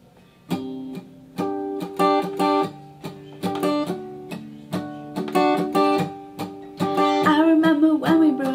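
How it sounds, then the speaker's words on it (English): Palm-muted acoustic-style guitar chords strummed close to the bridge, short percussive chunks in a steady rhythm that build to fuller, ringing strums near the end, played alone with no voice. "So basically what palm muting is you rest this part of your hand on the strings close to the bridge of your guitar"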